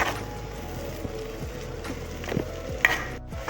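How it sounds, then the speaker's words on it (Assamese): Chopped onions fry in butter in a pan with a few raisins, a steady low sizzle with faint stirring scrapes throughout, close and moderately quiet with no talking. "এইখিনি অকণমান ভাজি ল'ম।"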